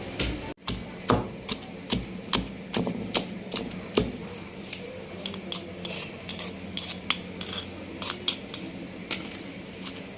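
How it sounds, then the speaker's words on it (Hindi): Tomatoes being pounded while cooking, a series of sharp close thuds striking at an irregular, roughly steady pace, with fainter background clatter between blows and no talk. "तो अभी जी मैं कूट रही हूँ टमाटर भी साथ ही"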